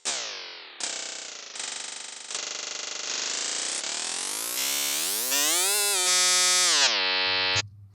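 Resonant synthesizer noise through a pitched comb filter in Serum, shaped into buzzy pitched tones, stepping and sliding upward across several held notes, then cutting to a low thin hum.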